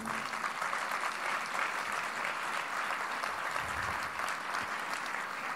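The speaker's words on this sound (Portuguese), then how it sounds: "Você pode aplaudir o nome do Senhor." Church congregation applauding during a Holy Communion service sermon, a broad sustained clatter of many hands filling the hall at a moderate level, steady from start to finish with a few low thumps partway through.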